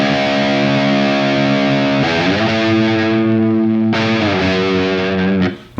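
Distorted bass guitar plays long sustained notes, sliding between pitches twice, loud and alone with no voices.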